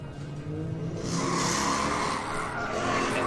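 A drift car's tires squeal loudly during a pro competition battle, a sharp rising screech over engine roar that swells after the first second and holds to the end.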